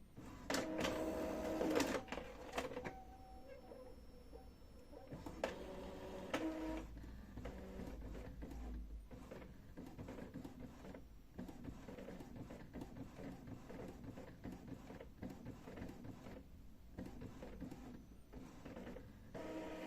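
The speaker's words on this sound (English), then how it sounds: "the printer will print out the nozzle check pattern" An Epson L3151 inkjet printer printing a nozzle check pattern, with mechanical whirs, clicks and the print head shuttling back and forth in a steady, repetitive rhythm.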